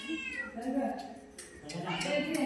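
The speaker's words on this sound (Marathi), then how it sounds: "ह्या मांजरी सोबत खेळतोय." A cat meows repeatedly, close by, with drawn-out tonal cries overlapping people talking nearby.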